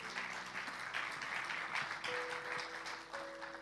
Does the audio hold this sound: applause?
yes